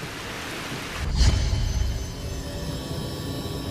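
Steady rain hiss with a low rumbling swell in the middle, like distant thunder or heavy rainfall on a surface, continuous and no voices.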